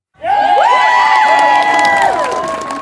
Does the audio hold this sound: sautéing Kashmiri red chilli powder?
no